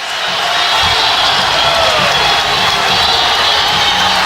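A college baseball crowd at an NCAA Super Regional in Fayetteville roars steadily and loudly after a swinging strikeout, a dense wash of cheering and yelling that holds without pause.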